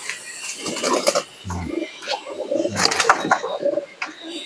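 Pigeons in a loft, including a two-year-old local Kaldom, coo in low repeated throaty bursts amid wing flutters and shuffling, with a faint voice in the background.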